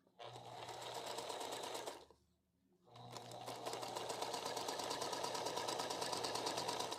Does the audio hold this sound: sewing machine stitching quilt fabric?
yes